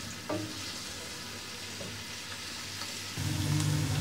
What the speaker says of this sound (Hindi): अब हम प्याज ब्राउन करने लगे हैं। हम हल्के ब्राउन करेंगे